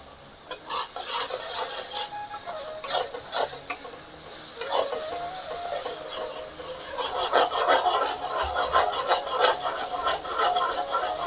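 Spice paste of poppy seed, green chilli and chilli powders stirred and fried in oil in a kadai, giving a steady close sizzle with scraping strokes throughout and busier stirring toward the end.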